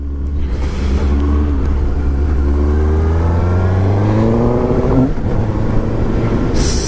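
A 2017 Suzuki GSX-S750 four-cylinder motorcycle engine revving close and loud, pitch climbing smoothly through the gears, with a brief dip and rise again before rushing wind at the end.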